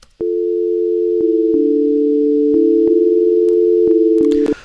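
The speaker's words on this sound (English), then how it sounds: "So I'm going to play some simple sine tones here that's just coming out of operator." A clean sine tone from the Ableton Operator synthesizer plays a slow, simple melody of sustained steady notes, loud and alone, with small clicks at each note change.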